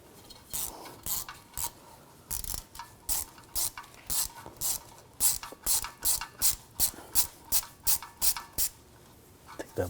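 A ratchet fitted with a 5mm hex socket loosens a bolt on a 2011-2018 Volkswagen Jetta while its rear ABS wheel speed sensor is being replaced. Loud, close clicking comes in rapid, regular bursts throughout.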